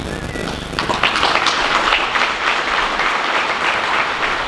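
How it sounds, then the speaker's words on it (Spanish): Steady crowd applause at an outdoor civic ceremony, a sustained even wash of clapping with a brief voice at the very start. "Fuerte, fuerte el aplauso."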